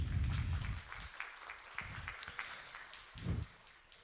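Audience applause at a university science congress in Peru: a burst of clapping that fades after about a second, followed by scattered lighter claps and a few quieter bursts, in a large hall.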